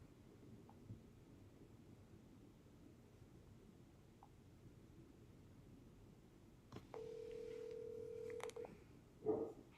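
A telephone call is placed: a faint hum gives way to a steady tone lasting about a second and a half, then a short burst of dialing beeps near the end, with no voices.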